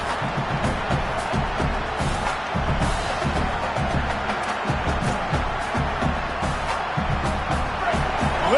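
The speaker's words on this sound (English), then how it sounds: "Listen to this crowd just shaking the girders of this place, trying to help their defense." A packed football stadium crowd roars continuously in a dense, steady wash of cheering and noise, with a commentator's voice faintly mixed in.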